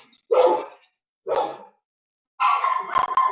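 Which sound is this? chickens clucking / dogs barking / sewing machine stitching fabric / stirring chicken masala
dogs barking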